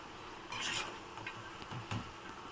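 A spoon scrapes and clinks around a pot of egg potato curry, faint soft stirring strokes with a couple of louder knocks against the pan.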